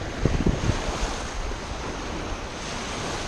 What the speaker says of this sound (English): The waves were pretty big